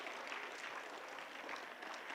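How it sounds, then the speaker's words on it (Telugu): A room of people at a holistic education workshop breaks into sustained applause for the teachers, dense, even clapping from many hands, somewhat distant and fairly quiet, with no one talking. "ఈరోజు వచ్చిన టీచర్స్ అందరికీ గట్టిగా ఒకసారి క్లాప్ చేద్దాం."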